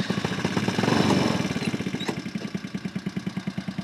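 An offroad kart engine cranks over and catches, a loud surging rumble that falls into a quick, regular chugging pulse at close range.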